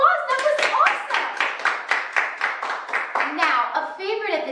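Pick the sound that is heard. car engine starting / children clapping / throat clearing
children clapping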